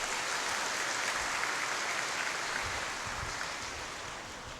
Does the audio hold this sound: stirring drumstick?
no